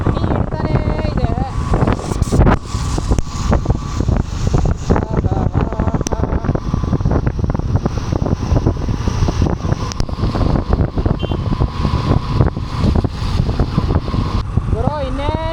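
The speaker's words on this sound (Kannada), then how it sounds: "ತಣ್ಣಗೆ ಗಾಳಿ ಬೀಸ್ತೈತೆ" Strong wind rushes past during a rainy monsoon motorbike ride near Halebidu in Hassan, a loud continuous buffeting roar across the whole stretch with a rider talking over it.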